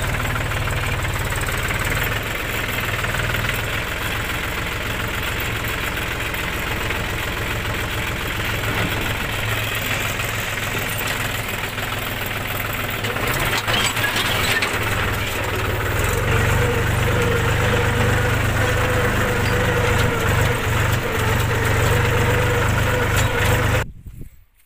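A tractor engine idles and runs steadily up close at a farm while cultivator work is set up, a loud continuous low rumble with knocking throughout, cutting off abruptly at the end.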